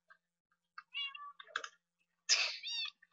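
Several close cat meows in Minecraft, short and bright calls coming in separate bursts with gaps between them, one longer and louder meow near the end, no talking.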